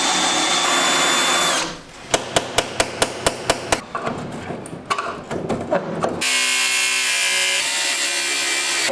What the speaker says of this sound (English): We also got to be careful drilling.